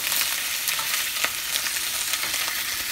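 Meatballs browning in a pan while being stirred, a dense continuous hiss of frying oil with a few soft scrapes and clicks of the spoon, close and fairly loud, no voices.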